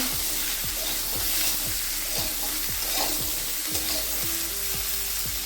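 Kohlrabi pieces frying in hot oil tempered with radhuni, a steady close sizzle with regular stirring scrapes of a spoon against the pan, no talking.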